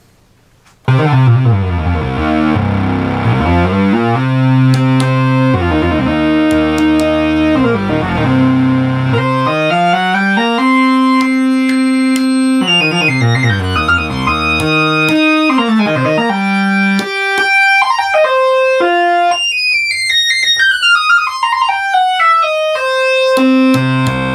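A restored Minimoog analog synthesizer plays sustained, buzzy tones that shift between notes and chords, later sweeping through rapid descending patterns, loud and alone.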